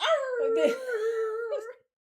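A person's voice imitates a dog howling at bad karaoke singing: one drawn-out, wavering howl with a rising yip, close and alone, ending abruptly in silence.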